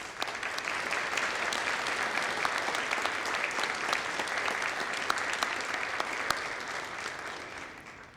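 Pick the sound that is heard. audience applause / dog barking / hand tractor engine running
audience applause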